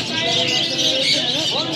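A bird market crowded with many caged birds gives off a dense, continuous chorus of chirps and tweets, loud and close, with voices talking in the background.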